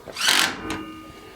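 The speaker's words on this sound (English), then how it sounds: "And get the drill." A short burst of a power drill, whirring up briefly and stopping, then a second quick pulse, close and fairly loud, while fitting a chicken run door.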